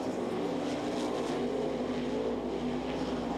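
360 sprint cars in a heat race at the Knoxville Nationals raise a continuous, somewhat distant engine roar that swells and dips in pitch as the cars pass.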